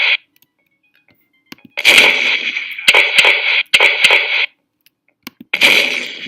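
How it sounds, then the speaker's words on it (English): Several sharp, punchy game cannon blasts in succession, each a bright crack with a short noisy tail, separated by brief gaps, loud and without talk. "You can hear the cannon being shot,"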